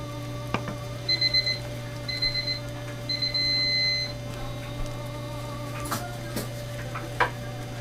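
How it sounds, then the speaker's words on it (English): An electronic kitchen timer beeps in quick pulsed bursts, three rounds of rapid beeping, over a steady hum, followed by a few clicks and clatters. "Okay, so the timer's gone off."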